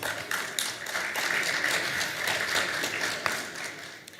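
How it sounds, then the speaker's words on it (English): Audience applause at the ICAN 2022 civil aviation opening ceremony, a dense, steady wash of many hands clapping, moderately loud and sustained for about four seconds with no speech over it. "One round of applause for him."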